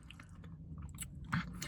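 Crunchy freeze-dried candy corn being chewed close to the mouth, a series of soft crisp crunches and bites at an irregular pace, faint and alone.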